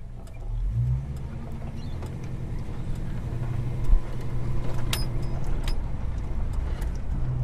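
Traffic on a road at peak hour, with a steady low rumble of engines and a couple of cars swishing past nearby, one brief louder bump midway, heard alone without talk.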